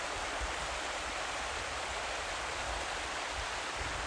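Water rushing steadily through a man-made culvert under a countryside nature path, a continuous broadband gush that stays close and even throughout with no voices.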